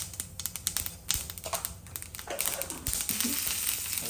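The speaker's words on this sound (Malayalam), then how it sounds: "കുറച്ച് കടുകിട്ട് കടകട പൊട്ടട്ടെ" Mustard seeds spluttering in hot oil for a home-cooked dish: quick, irregular crackling pops at first, merging into a denser, steady sizzle that grows louder.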